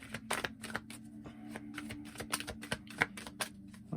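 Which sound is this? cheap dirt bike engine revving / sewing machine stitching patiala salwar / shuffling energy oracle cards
shuffling energy oracle cards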